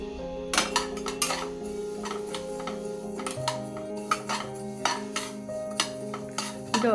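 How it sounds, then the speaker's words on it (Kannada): Sesame seeds roast in a pan for a Kannada chigali and tambittu sweet, with a spoon scraping and clinking against the metal in steady, irregular taps over a low hum of kitchen background. "ಸಣ್ಣ ಕಪ್ಪಲ್ಲಿ 1 ಕಪ್ ಎಳ್ಳು ತೊಗೊಂಡಿದ್ದೀನಿ. ಎಳ್ಳನ್ನು ಗಮ್ ಅಂತ ಹುರ್ಕೋಬೇಕು."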